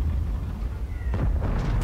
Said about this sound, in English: I still have no idea which artillery is firing at which